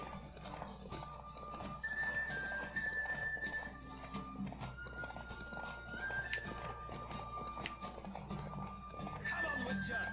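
Hooves of a galloping horse in The Witcher 3 on Switch keep up a continuous clip-clop with a brief neigh, mixed under game music while someone talks over it.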